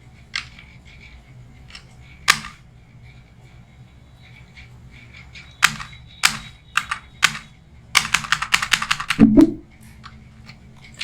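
Computer keyboard typing during data entry comes in sparse isolated key taps, then a dense burst of rapid clicking near the end, close and clear with no talk.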